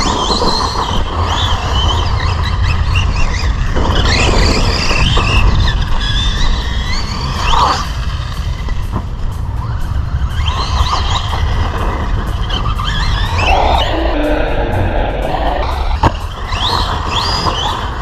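A Team Associated Rival MT10 v2 RC monster truck drives hard and backflips, its electric motor whining loudly and continuously with tire roar, gravel crunch and thuds from landings.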